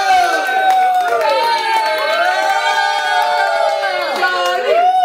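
A crowd at a stand-up comedy show cheers for comedian Johnny D, with loud sustained whooping and shouting voices dominating and light clapping mixed beneath.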